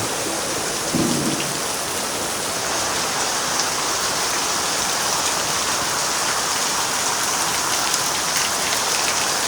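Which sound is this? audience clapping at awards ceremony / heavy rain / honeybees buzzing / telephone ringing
heavy rain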